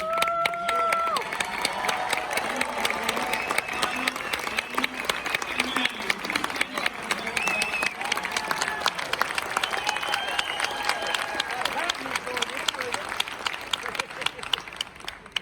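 Large rally crowd at a Vice President Mike Pence event in Biloxi, Mississippi, applauding and cheering at length, steady clapping under scattered shouts and whistles, with voices calling out over the crowd noise.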